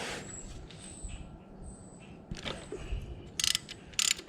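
Ratcheting clicks and metallic mechanism sounds come from a wrench loosening the transmission drain bolt on a Harley Davidson Twin Cam, close and fairly quiet, with a few sharper ratchet bursts near the end.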